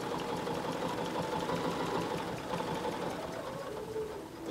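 A sewing machine stitching a quilted pillow, its motor running in a continuous, even whir with a fast rhythmic needle chatter, fairly quiet and close, without speech.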